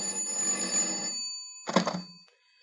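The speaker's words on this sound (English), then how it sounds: "Telephone rang once again." An old-style telephone bell rings in two bursts, a long trill followed by a short one after a pause, fairly clear and alone.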